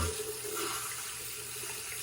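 Hot water runs steadily from a tap into a sink, ready for warming a safety razor and its blade, a continuous close hiss that holds for about two seconds with no talk.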